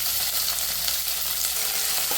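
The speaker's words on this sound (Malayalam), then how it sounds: "അപ്പോൾ നന്നായി ഇളക്കി മിക്സ് ചെയ്യാം" Tomato, onion and green chilli sauté in a pan for a Kerala-style fish curry, giving a steady, close, loud sizzle with faint stirring scrapes throughout and no talking.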